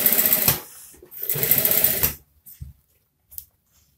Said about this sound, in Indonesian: langsung tindas kita jahit seperti ini